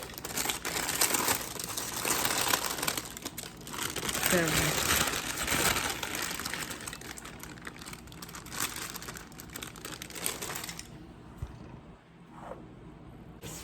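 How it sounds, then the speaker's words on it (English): Paper is carefully picked up and crinkled while a baked fish dinner is being prepared, a close rustling and crackling that runs for several seconds before going quiet, with brief speech near the end. "Let's just pick up the paper carefully."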